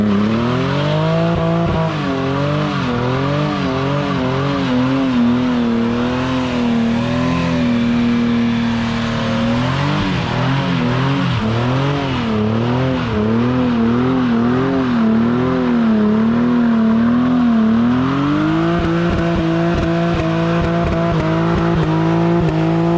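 A right-hand-drive Toyota Supra's engine revs hard and loud at close range, holding a steady drone, then climbing and dropping in repeated wavering sweeps before settling into a high sustained pitch over about twenty seconds.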